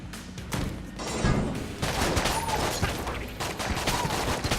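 Rapid bursts of gunfire from a bullet-spraying gun in the video game Enter the Gungeon, loud and dense, crackling in quick volleys that run on almost without pause.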